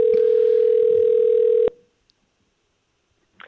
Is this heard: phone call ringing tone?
yes